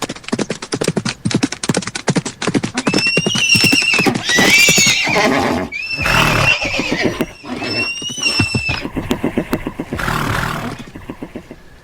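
Horses in a radio play sound effect, several loud, shrill neighs and whinnies repeating over rapid galloping hooves that clatter steadily throughout, close and dramatic with no talk.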